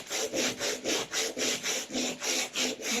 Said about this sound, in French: Donc là, on ponce et on use en fait la